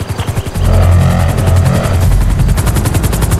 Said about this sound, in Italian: dove cazzo hai preso l'elicottero della polizia?